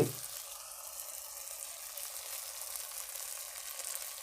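Food sautéing in oil in a pan for a Bengal-style shim pata paturi dish gives a steady, close broadband sizzle that holds evenly from start to finish, with no voices over it.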